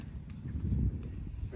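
Horse hooves clip-clopping on a farm in Cuba, dull low thuds of walking steps close by, with human voices audible in the background.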